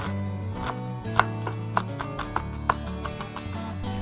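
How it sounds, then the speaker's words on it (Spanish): A knife chops a red onion into small dice on a cutting board, a series of sharp, evenly spaced taps over a low background hum. "Comenzamos picando una cebolla roja en cuadritos."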